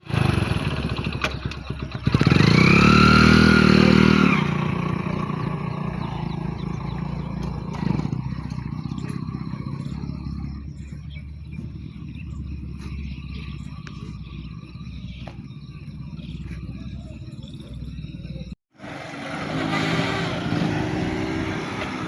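A motorcycle ridden by a beginner learning for the first time, its engine running steadily with a louder burst early on and a brief cut near the end, while people talk over it.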